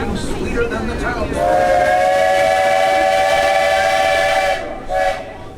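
Walt Disney World Railroad steam train at Magic Kingdom, sounding a long, loud chord-like whistle for about three seconds over the rumble of the moving train, then a brief second toot.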